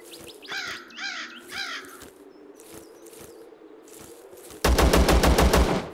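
Loud, rapid automatic gunfire bursts out near the end in ZERO Sievert, a survival shooter game, following cawing crows and ambient crickets in the game world.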